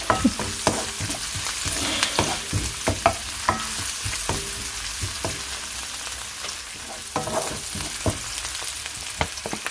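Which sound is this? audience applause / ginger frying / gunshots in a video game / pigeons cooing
ginger frying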